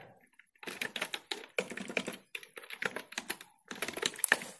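Someone types C code on a computer keyboard in quick, uneven bursts of close, crisp keystrokes with short pauses between runs.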